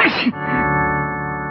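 A man gives a single loud sneeze in a Telugu movie scene, a sharp burst followed by a lingering echoing tone.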